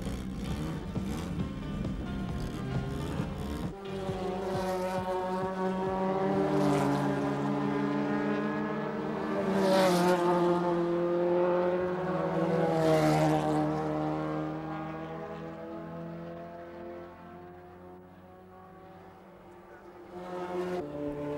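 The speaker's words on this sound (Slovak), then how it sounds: "Automobil za automobilom v tesnom závese." Race cars running nose to tail in a motor race scream past one after another, their high engine whine rising and falling with each pass. A loud, continuous stream of passes with no talk.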